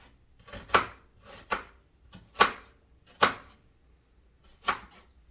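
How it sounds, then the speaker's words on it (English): Onions chopped with a knife on a board: five or six sharp, distinct thuds at an uneven, unhurried pace, close and clear with no talking. "So I'm cutting the onions."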